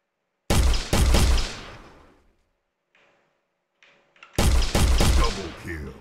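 Loud bursts of gunfire from a shooter video game. A first volley of sharp shots is followed by a quiet gap with faint sounds, then a second rapid, dense burst returns near and loud.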